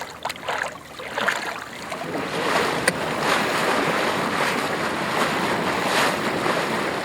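Sailboat underway on a lake, with steady broadband rush of wind and waves against the hull building over several seconds, a few faint knocks early on, no voices.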